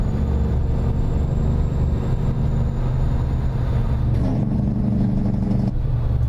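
A truck engine mod in American Truck Simulator, a steady close, loud low rumbling drone that holds constant, then dips and shifts partway through as the load changes.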